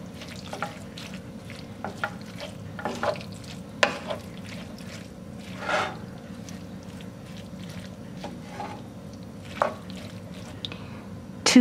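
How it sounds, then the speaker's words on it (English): Ground beef being stirred together with yellow mustard and Worcestershire sauce for sloppy joe mix, soft sticky squelches and spoon scrapes at irregular intervals over a faint low hum, close by. "So I'll add that into my ground beef. Mix it around."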